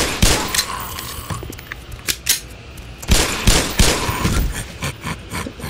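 Pistol fire in the Black Mesa video game: several sharp shots come in uneven bursts, loud and close, with short gaps of quieter game ambience between them.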